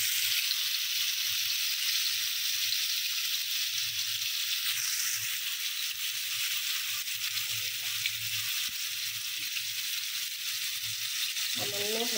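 Three medium potatoes, salted and dusted with a little turmeric, fry in a pan with a steady, even sizzle that holds close and constant throughout.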